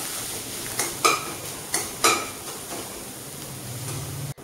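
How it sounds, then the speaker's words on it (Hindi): Chopped onion and green chili fry in hot oil with a faint steady sizzle, broken by several sharp stirring clinks of a utensil against the pan, close and without talk. "ऑयल गरम हो चुका है तो पहले अनियन को फ्राई कर लेते हैं"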